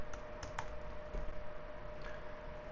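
Fingers type a virtual machine name on a computer keyboard, a short run of soft, close key clicks with a few sharper taps, no talk.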